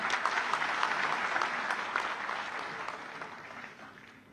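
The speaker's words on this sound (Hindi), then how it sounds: "जोर से तालियां बजाइए।" Audience applause at a Rajasthan health ministry event, a steady patter of many hands clapping at moderate distance that gradually fades out over a few seconds, with no voices.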